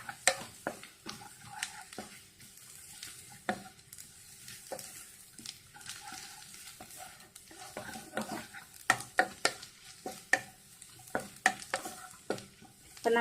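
Coriander powder frying and being stirred in a pan while cooking fish molly, with steady sizzling and repeated scraping stirs, clattering close and moderately loud without any talk.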